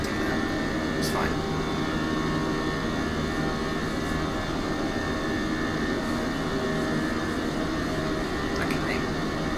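Aircraft engines drone just after takeoff in a flight simulator game, a steady loud broadband roar that holds unchanged throughout with faint high flickers on top.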